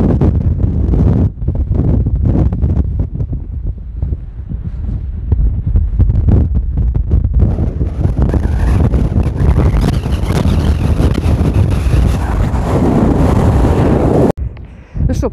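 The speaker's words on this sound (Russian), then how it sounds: "Ветер, конечно, не дает снимать." Strong storm wind buffets the microphone on a boat, a loud, continuous roaring rumble that gusts and surges, with faint water and rigging noise beneath.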